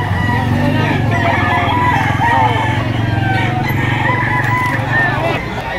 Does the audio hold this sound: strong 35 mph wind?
no